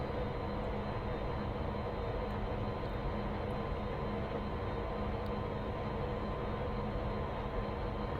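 A Class 92 electric locomotive in Train Simulator runs at full speed, giving a steady, dense rumble and whir with rolling wheel noise that holds constant throughout, with no voices.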